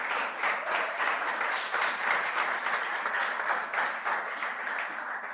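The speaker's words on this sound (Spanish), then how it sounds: "Denle el aplauso al Señor." Applause for the Lord during a church service, a sustained wash of many hands clapping together, fairly loud and continuous from start to finish with no talk over it.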